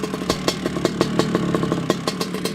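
A 1986 Honda CR125R two-stroke 125 motocross bike idling just after a kick start, a close, loud, rapid buzzing putter with clattering beats and slight unevenness, with no voices over it.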